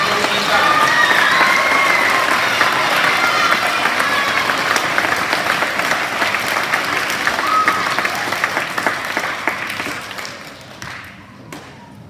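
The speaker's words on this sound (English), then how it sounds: "All right, big round of applause for these guys." An assembly audience gives a big round of applause for a group of cultural leaders, dense loud clapping with a few cheers at close range, fading out near the end.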